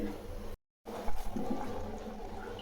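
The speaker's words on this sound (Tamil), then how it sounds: "குழம்பு நல்லா கொதிக்குதுங்க" Curry leaf and garlic kuzhambu bubbles in a pot in a home kitchen, a close, continuous simmering gurgle cut by a brief moment of silence before the bubbling resumes.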